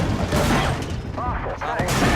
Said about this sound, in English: Big rocket blows up.